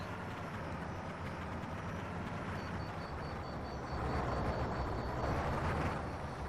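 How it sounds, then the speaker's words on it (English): A steady, low diesel engine drone from the video game The Long Drive runs continuously, swelling slightly louder toward the end, with no talking. "I swear that's a new diesel sound."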